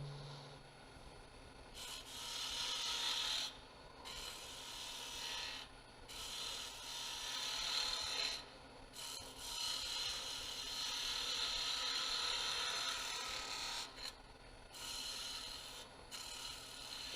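A skew chisel cuts a bead into spinning wood on a lathe, giving a steady raspy scraping that comes in several long passes with brief pauses between them, close and fairly quiet.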